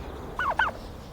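A farm turkey lets out a short, quick gobble, two brief warbling bursts over faint background noise.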